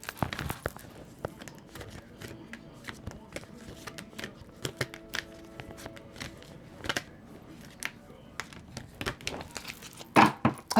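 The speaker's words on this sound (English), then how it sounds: "She's the overall energy again after I did some shuffling." A deck of tarot cards is shuffled by hand, producing crisp close-up snaps and rustles in an irregular rhythm, with a louder flurry of card slaps near the end.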